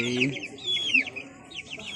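Two-month-old farm chickens clucking and chirping in quick, wavering calls, close and fairly loud, with a low voice briefly underneath at the start.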